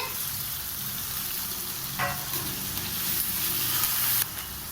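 Green chillies, curry leaves and crushed garlic sautéing in hot oil for a Chettinad fish curry, a dense, loud, continuous sizzle with a brief stirring scrape midway.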